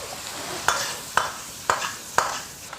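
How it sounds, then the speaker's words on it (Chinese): Pressed tofu strips and green and red peppers stir-fried over high heat after cooking wine is splashed in, a steady sizzle broken by four evenly spaced scraping strokes of a spatula against the wok. "料酒炒至挥发，"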